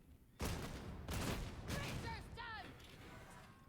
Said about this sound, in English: Obviously, I'm not super accurate with a bolt gun, but it is shooty whiz bang fun.